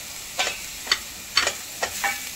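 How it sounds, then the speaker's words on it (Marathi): Grated bottle gourd cooks in ghee for lauki halwa, a low sizzle broken by four or five soft scraping stirs of a spoon against the pan at an uneven pace, close and moderately quiet. "थोडं तेलामध्ये नरम होऊ द्यायचं तुपामध्ये।"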